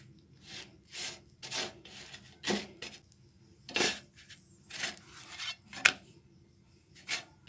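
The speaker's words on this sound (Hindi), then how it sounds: "उसके बाद ऊपर से ऐसे तेल लगा लेना है" Fingers rub oil over a crisp roasted papad in a series of dry, scratchy strokes, about a dozen rhythmic rasps close by with short pauses between them.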